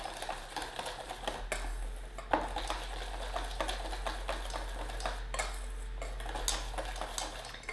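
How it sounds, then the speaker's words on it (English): Whisk clattering quickly against a bowl while smoothing a plant milk mixture for a vegan cheesecake, rapid steady metallic ticks close up, no talking. "I'm just gonna quickly whisk this up. Get it all nice and smooth."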